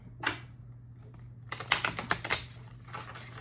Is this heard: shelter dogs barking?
no